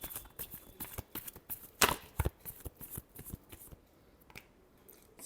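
Tarot cards being shuffled by hand in a quiet room, a run of quick crisp riffling flicks and soft slaps, close and fairly faint, with a louder burst of shuffling near the middle and no talking.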